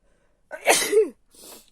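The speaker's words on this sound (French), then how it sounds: "j'ai envie d'éternuer" A single loud sneeze bursts out close up, followed by a short breathy exhale, with silence before it.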